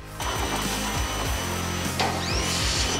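A power wire wheel grinding rust and grime off the bare metal chassis of a 4x4 wagon, a loud continuous harsh whir with rhythmic pulsing as the brush works across the steel.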